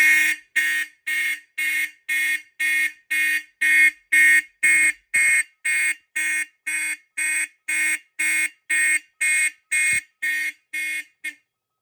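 A Simplex fire alarm on a demo board sounds in evenly spaced, loud electronic horn bursts, about twenty pulses repeating steadily with short silent gaps between them and a couple of faint clicks.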